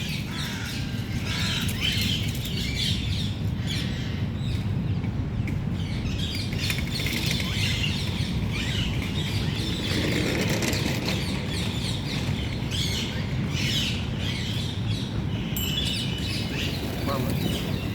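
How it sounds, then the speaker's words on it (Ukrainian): Outdoor morning ambience by a waterfront with scattered bird calls and harsh caws from several crows and magpies, some near and some farther off, over steady background noise. "Ворони з сороками бігають."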